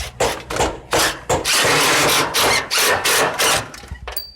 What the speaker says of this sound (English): now that the panel's in, put a couple screws in.